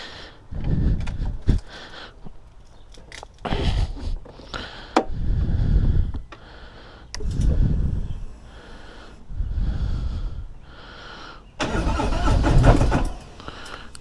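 A brand-new 2021 Harley-Davidson Freewheeler trike, unstarted for a week, cranks and fires in several loud, close bursts, its engine revving and idling between pauses.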